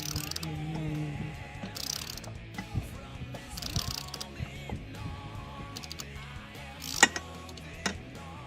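A ratchet tightens bolts during an '82 Corvette restoration. Bursts of quick ratcheting clicks come and go with metallic clanks and knocks from close by, ending in a sharper clack or two.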